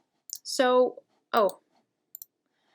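A computer mouse on a Mac gives a few sharp, isolated clicks in a quiet room, spaced by brief voice-like sounds.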